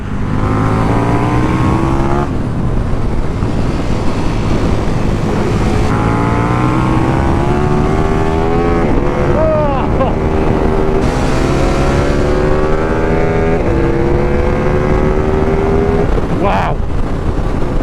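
KTM 1390 Super Duke R motorcycle engine accelerating through rising gear sweeps with shifts, loud and close throughout, wind noise mixed in.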